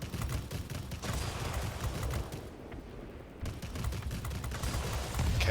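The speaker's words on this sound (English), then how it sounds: "Careful gun management here, like all cannons." Rapid bursts of aircraft cannon fire in the air-combat game World of Warplanes, loud and continuous, pausing briefly in the middle before resuming.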